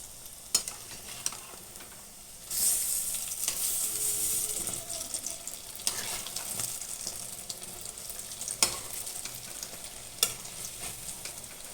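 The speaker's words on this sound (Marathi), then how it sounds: "त्यासाठी आपण एका बाजूने छान त्याला तळू द्यावे" Lentil fritters (dal bhaji) frying in hot oil, a steady close sizzle with brief louder crackles and pops scattered throughout, no voices.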